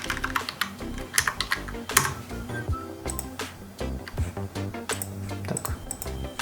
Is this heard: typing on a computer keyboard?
yes